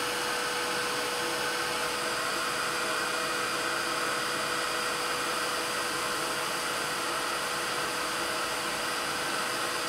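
Heat tool blowing hot air over embossing powder on metal paper, a continuous close, loud whooshing hiss with a steady motor hum for the whole stretch.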